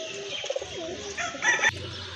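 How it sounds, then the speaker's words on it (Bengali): A pair of white pigeons coo softly nearby in a run of low, rolling throaty calls, with a brief rustle near the end and no talking. "খুবই সুন্দর এক জোড়া কবুতর দেখার মতো"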